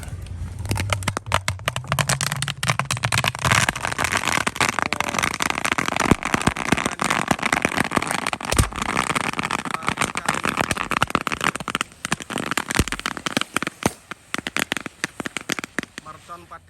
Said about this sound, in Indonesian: Mercon 4 kardus di dalam galon langsung menyala sekaligus.